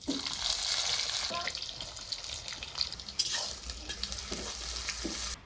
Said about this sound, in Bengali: গরম তেলে পেঁয়াজ কুচিগুলো নেড়ে চেড়ে মিশিয়ে দিলাম